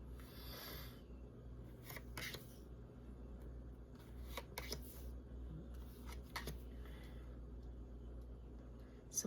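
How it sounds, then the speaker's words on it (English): Tarot cards being shuffled at close range, a few soft riffling bursts over a low room hum, fairly quiet. "Let's get some cards pulled here."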